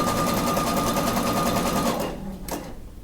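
A sewing machine stitches along the edge of lace for lingerie underwear, running loud and steady for about two seconds before stopping, followed by a brief soft click.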